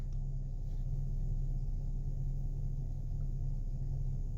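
A Nissan Xterra engine idles low, near 600 RPM, after a throttle body cleaning. A steady, deep, unbroken rumble holds close and even throughout.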